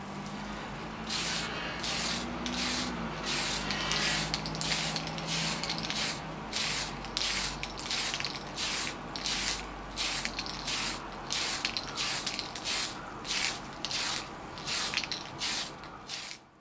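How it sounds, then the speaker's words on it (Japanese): An aerosol spray can lays clear coat over a Tamiya Honda NSX Type R model car body in a long series of short, even hissing bursts with brief gaps between them, close and steady, with no voices. "ボディカラーを拭くよりは割とゆっくりめに缶スプレーを塗装しています。"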